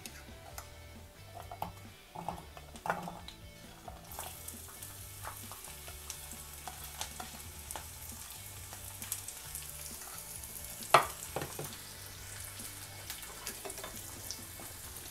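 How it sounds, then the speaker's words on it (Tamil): Onion and garlic fry with cumin in hot oil for a fish curry, a steady close sizzle with faint ticking and occasional stirring clicks, no voices. "நம்ம வெங்காயத்தையும் பூண்டையும் சேர்த்துடலாம்"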